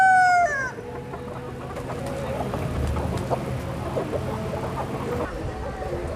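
Fancy chickens on a farm in Pakistan, soft clucking and low murmuring calls, opening with the tail of a crow, under faint background noise.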